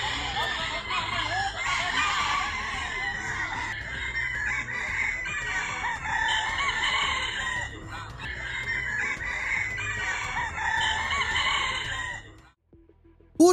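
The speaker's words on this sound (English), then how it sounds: "rooster owners compete to see whose bird can crow the longest." Several roosters in a crowing contest crow loudly and repeatedly, their long calls overlapping with clucking in the background, ending in a sudden cutoff.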